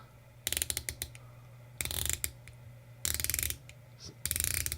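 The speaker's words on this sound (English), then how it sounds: "So the bezel, it has 120 clicks. It's unidirectional, and it also has a ceramic insert." The unidirectional 120-click ceramic bezel of a Spinnaker Piccard automatic dive watch is turned in four quick bursts of fine, rapid clicking, heard up close and alone against faint background hum.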